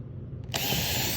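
A power drill bores out the glides of a Zipper wand, starting abruptly after a half-second of low hum and then whining loudly and steadily to the end.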